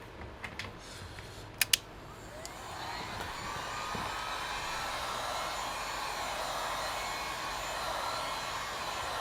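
A few sharp clicks and taps, then a heat gun switches on and blows a steady, airy whir to warm the adhesive on an HP 15m laptop LCD cover.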